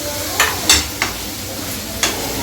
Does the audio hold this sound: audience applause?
no